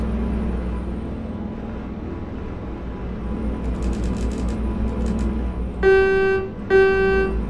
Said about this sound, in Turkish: Havalı kornamız yok ama normal kornasına havalı korna gibi.